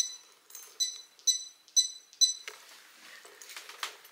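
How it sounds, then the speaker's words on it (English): Home security alarm keypad beeping while being armed on the way out of a house: four evenly spaced high electronic beeps, then a busier stretch of clicks and rustling movement nearby. "Set the alarm."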